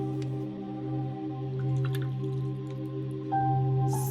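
Water drips into brown watercolor paint, a few soft, small drips over a quiet background hum.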